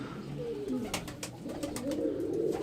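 A pigeon held in the hand gives soft low coos, with a few brief flutters or rustles mixed in, close and fairly quiet, no voices present.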